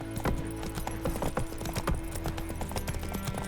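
Horse hooves clip-clop at a steady trot in The Witcher 3: Wild Hunt, close and rhythmic over a low background hum.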